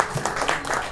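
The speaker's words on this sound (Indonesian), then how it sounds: "Tepuk tangan dulu dong." Short stretch of audience clapping at a press conference, uneven bursts of handclaps at moderate loudness filling the room.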